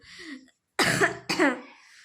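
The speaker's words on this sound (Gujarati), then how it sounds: "તો મને ઉધરસ પણ થઈ ગઈ છે થોડી, અને તબિયત પણ થોડીક નરમ છે એટલા માટે હું ઉધરસ કરું છું" A woman with a slight cold coughs twice in quick succession, close and clear, after a brief quieter sound and a moment of silence.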